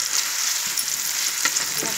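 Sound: onion frying in a pan for egg and potato curry

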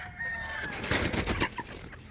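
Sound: Boston Black pullets (chickens) clucking

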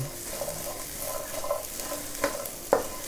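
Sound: chili peppers being pan-roasted and stirred with a little oil

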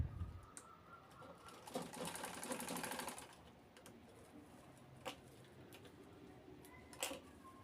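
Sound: sewing machine stitching the side of a shopping bag

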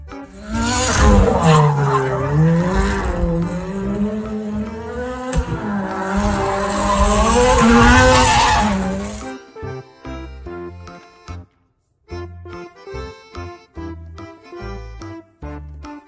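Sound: race car

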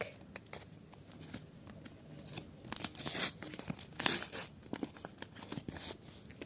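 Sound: tearing open a surprise collection packet

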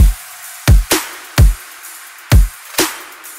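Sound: future bass drums and effects playing together

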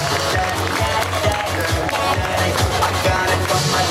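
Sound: audience applause

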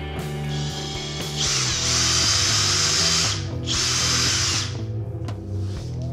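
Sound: pre-drilling screw holes with a 2.5 mm drill bit

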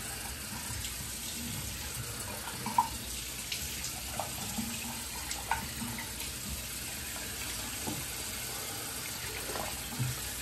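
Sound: rinsing face with water from tap

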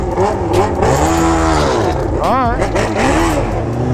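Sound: car engine running rough, revving

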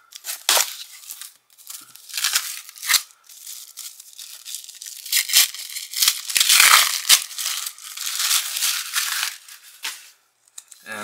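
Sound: scissors cutting open a mail package

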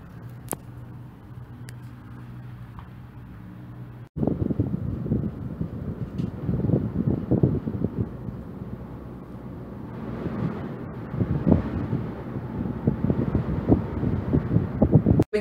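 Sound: strong wind at cable car station in Madeira

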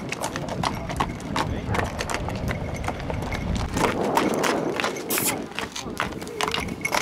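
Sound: horse hooves clip-clopping while being backed up

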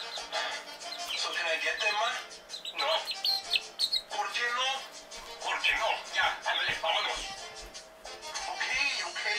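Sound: pet bird chirping

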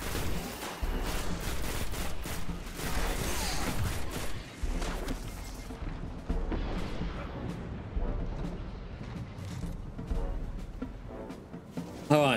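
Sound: auto rifle firing in the video game Destiny

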